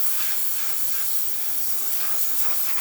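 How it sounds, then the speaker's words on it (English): The steam wand of a Quick Mill Silvano Evo espresso machine, just repaired after its thermostat ran far off temperature, lets out a loud, steady, continuous hiss of steam, close and unbroken from start to finish. "now for the steamer"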